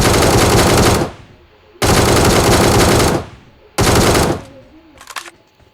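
Automatic gunfire in PUBG Mobile rings out in three long, loud sustained bursts, each trailing off into a short echo, with a brief, quieter rattle at the end.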